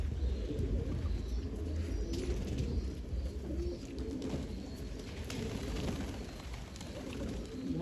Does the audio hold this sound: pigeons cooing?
yes